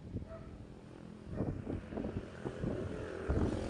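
Strong wind buffets the microphone in low rumbling gusts, steady and close, with no voices heard.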